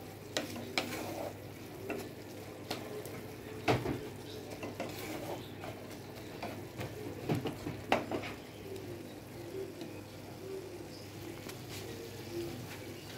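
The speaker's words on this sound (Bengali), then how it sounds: "তারপর মিক্স করে নিচ্ছি, নেড়ে মিশিয়ে নিচ্ছি।" Spices such as ground cumin are stirred in a pan for beef kofta curry, with a steady scrape and clatter of the utensil against the pan over a soft, continuous sizzle and occasional sharper knocks.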